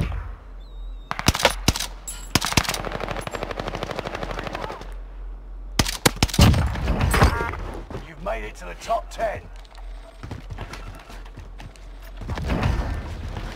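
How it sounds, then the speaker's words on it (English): Machine-gun bursts rattle in a video game with an OTS9 weapon, rapid evenly spaced shots in stretches separated by quieter moments, with a player talking over them. "Stop shooting at me, beast."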